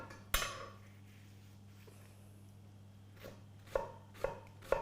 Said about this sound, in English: So we're going to start by just chopping up our onion here.